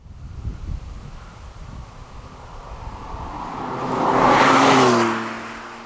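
A Porsche 911 991.2 GTS with a manual gearbox revs hard while driving, its engine note climbing loudly to a howling peak near the red line before easing off, with wind rush underneath.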